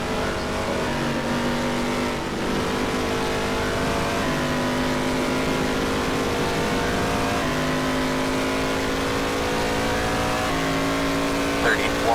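A NASCAR Racing 2003 race car engine holds a high, steady whine near 9,000 RPM, with small pitch steps as it shifts and carries on, loud and continuous, with a voice talking over it at times.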